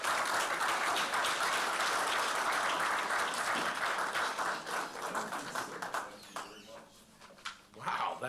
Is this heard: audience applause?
yes